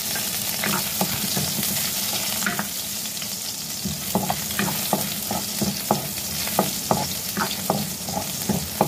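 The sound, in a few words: garlic sautéing in a pan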